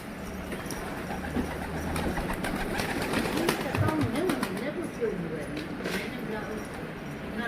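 Pigeons cooing softly amid a busy, noisy background, with people talking nearby throughout.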